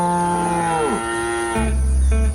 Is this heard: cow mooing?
yes